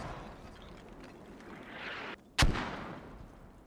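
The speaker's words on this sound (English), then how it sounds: "As I was looking away, mortars." A mortar round lands in a military video game, one sharp, loud crack striking after a brief hush, then a rolling rumble that fades out over steady low background noise.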